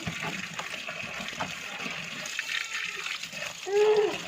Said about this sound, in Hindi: इसको जो है ना पानी जो है ना मार लेंगे ताकि जो थोड़ी बहुत कसर रह गई है वो भी अच्छे तरीके से साफ़ हो जाए